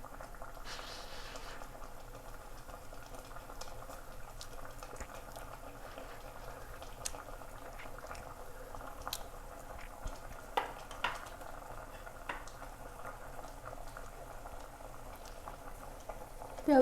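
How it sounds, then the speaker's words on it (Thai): Papaya sour curry simmering in a pot, a soft steady bubbling and faint popping that stays quiet and close throughout, with a few small clicks near the end. "ก่อนจะเคี่ยวมะละกอให้ เปื่อยอีกนิดนึงนะคะ"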